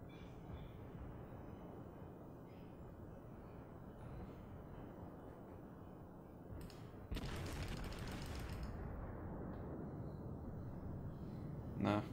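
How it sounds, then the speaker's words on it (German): A naval video game warship fires its cannons in one sudden loud boom midway through, followed by a sustained heavy rumble over a constant low engine drone. "So, dass jetzt alle meine Kanonen den erwischen."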